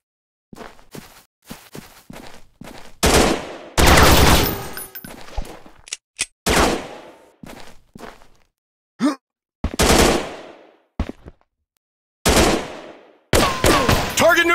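Gunfire in an Android first-person robot shooting game with a counter-terrorist theme comes as several loud bursts and single shots, broken by short gaps and brief quiet clicks.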